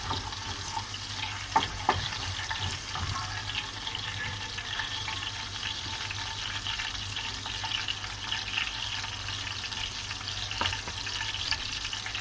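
Cumin seeds frying in desi ghee for a Pakistani restaurant-style masala daal, a steady soft sizzle and hiss running evenly throughout with a couple of faint clinks near the start, no voices.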